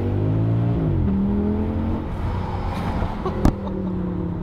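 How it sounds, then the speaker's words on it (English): A high-pitched Audi S6 V10 engine whines close by, pitch shifting as the revs change, with a sharp click near the end. "You don't think I was gonna leave you without any V10 revs"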